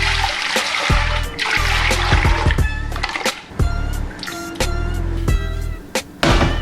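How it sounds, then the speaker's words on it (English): Water pours into a pot holding chicken bones in a kitchen, with a rough running splash broken by sharp knocks and clatters as the pot shifts, loud and close. "We're gonna fill this with just a few cups of water just to cover the bones that we need to blanch."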